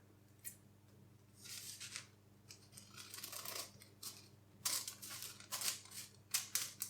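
Scissors snip through folded paper at the crease while cutting a triangle during gingerbread baking, a series of crisp, close cutting and rustling bursts with no talking.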